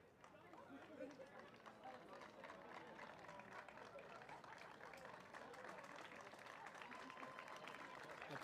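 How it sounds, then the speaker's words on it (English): Applause and crowd chatter at a UK American football game as Derby Braves players are clapped through a guard of honour for their trophies: steady, distant clapping throughout with a commentator speaking. "The players just being clapped through here"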